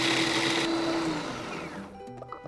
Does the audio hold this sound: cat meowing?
no